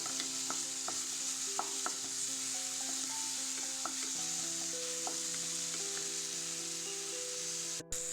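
Onion and tomato fry steadily in a pan for a tomato sattu paratha filling, with a constant close sizzle and occasional stirring clicks, and no one speaking.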